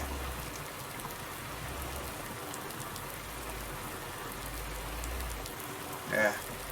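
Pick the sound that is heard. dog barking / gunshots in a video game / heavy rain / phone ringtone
heavy rain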